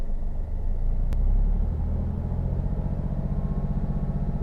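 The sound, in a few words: car engine revving to 2000 rpm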